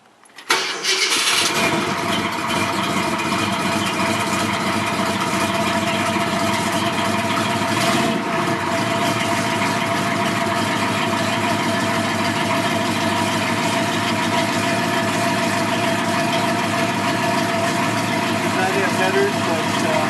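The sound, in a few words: V8 engine idling with aftermarket exhaust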